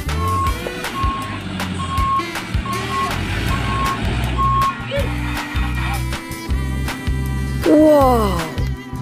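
A toy sand truck gives off a steady series of evenly spaced reversing beeps, mixed with nearby handling clatter and low rumbling.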